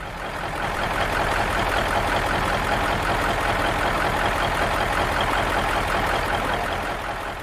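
A Caterpillar 3408 diesel engine in a 1979 Peterbilt 359 truck idles steadily, a loud, close, continuous low rumble with even rhythmic chugging and no voices.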